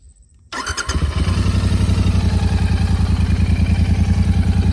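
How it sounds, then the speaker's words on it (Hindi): Royal Enfield GT 650 motorcycle on its stock exhaust, cranking over and firing up after a brief quiet start, then settling into a loud, close, steady thumping idle with an even pulsing beat. "These are the stock exhaust."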